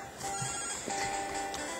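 Phone call ringing in the Pokemon Crystal video game, a repeated electronic ring tone heard fairly steadily over the game's background music with no talking.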